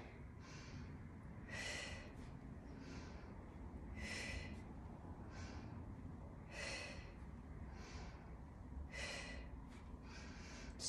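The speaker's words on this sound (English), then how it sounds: "Inhale and exhale." Rhythmic breathing during a home workout, with soft, airy inhales and exhales repeating about every two seconds, faint and close over a low background hum.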